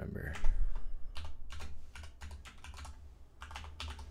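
Quick bursts of keystrokes on a computer keyboard while entering a username and password during Ubuntu server setup, close and fairly quiet, in short irregular runs with pauses.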